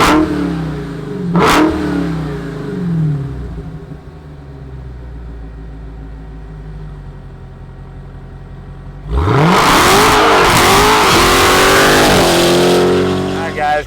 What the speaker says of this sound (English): let's fire up this beast and hear what it sounds like